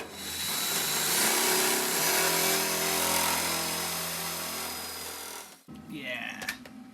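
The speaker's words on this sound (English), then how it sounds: "I'm gonna bring it together with a tech screw, self-tapping screw." A power drill drives a self-tapping tech screw into the metal B-pillar of a 1965 VW Beetle under restoration. It whirs loudly and steadily for about five seconds, then cuts off, followed by brief clatter.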